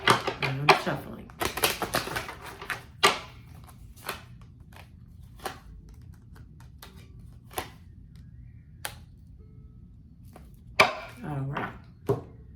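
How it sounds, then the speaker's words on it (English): Tarot cards are shuffled close by, with crisp riffling bursts at the start and scattered sharp taps and flicks over a quiet room, growing sparse before a final flurry of card handling. "I'm shuffling."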